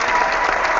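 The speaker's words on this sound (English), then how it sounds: "I want to give you a round of applause for that." A brief burst of dense clapping from a crowd, loud and steady, cut off after under a second.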